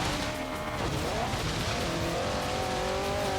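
A car in the racing game Forza Horizon 3 drives with a steady engine drone and squealing, skidding tires, continuous and moderately loud throughout.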